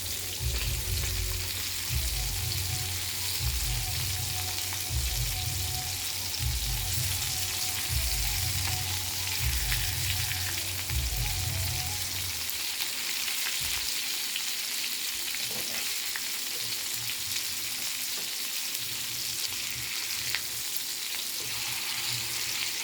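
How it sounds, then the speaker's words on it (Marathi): Fish fry in a pan with a loud, dense sizzle that holds steady throughout, with a low rhythmic thumping in the first half that fades out, and no talking. "आपले मच्छी एका बाजूने फ्राय झालेले आहेत, एकदम कडक झालेले आहेत"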